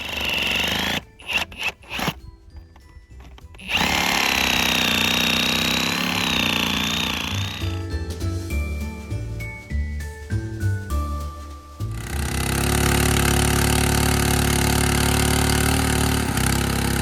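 An engine-powered auger drilling fence post holes on a farm, with loud steady motor drone, shifting pitch as it labors and revs, and an intermittent clattering stretch in the middle.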